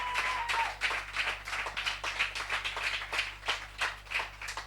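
Worshippers in a church service clap to acclaim the Lord, a lively run of quick, rhythmic hand claps at moderate distance that continues steadily through the whole stretch with no speech over it.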